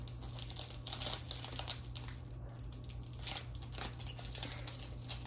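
Stiff plastic wrapper on a Dragon Ball Super Card Game premium pack crinkles and strains while being pulled, a steady close rustling with a few sharper crackles and no clean rip, over a low background hum.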